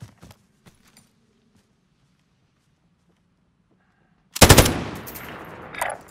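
An M249 machine gun in Modern Warfare opens up in a loud, sustained burst after several seconds of near silence broken by faint scattered taps and footsteps, the rapid fire continuing to the end.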